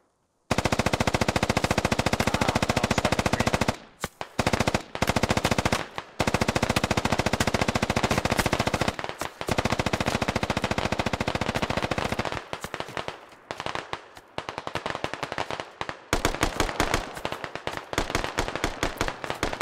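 Dense automatic gunfire in the military shooter game Squad, long loud bursts of rapid shots broken by short pauses, with sporadic single and clustered shots toward the end.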